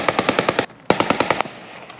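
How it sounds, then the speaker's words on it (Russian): Unsuppressed AK fire in Escape from Tarkov cracks out in two rapid automatic bursts, loud and close, with a short pause between them and a faint tail after. "калаш какой-то неглушённый был"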